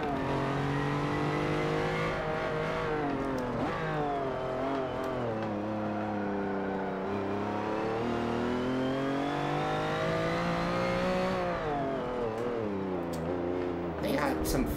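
Race car engine in Forza Motorsport 7 revving hard and climbing through gears, a continuous loud synthetic whine with rising pitch sweeps and brief dips at shifts.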